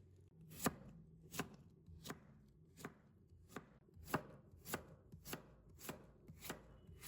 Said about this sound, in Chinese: 然后将黄瓜给它切成片